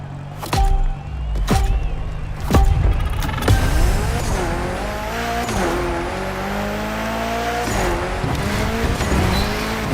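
Mitsubishi Evo 9 driven gymkhana-style in The Crew Motorfest, engine revving loud and close with repeated sharp tire squeals and skids as it slides and rises through gears.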